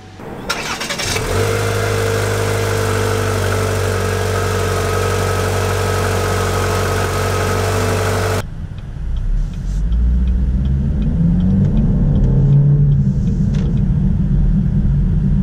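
A 2019 Cadillac XT4 engine turns over and starts, idles with a steady hum, then revs and pulls away into a driving rumble with shifting pitch.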